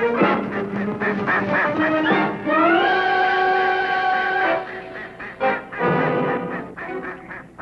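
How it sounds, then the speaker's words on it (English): A Muscovy duck in the Rupununi wetlands gives loud, close, nasal quacks and honks, some drawn out into sustained calls, in repeated bursts with short gaps between them. "a Muscovy duck sees the puma"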